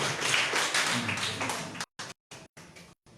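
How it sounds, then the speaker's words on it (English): Applause from an audience at a debate competition, welcoming a guest to his seat, a dense burst of clapping that breaks into short choppy bursts with gaps. "Round of applause for him,"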